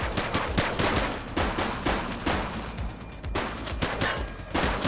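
Rapid gunfire bursts from a police shootout in the top-down crime action game The Precinct, dense overlapping shots and automatic fire rattling continuously and loudly throughout.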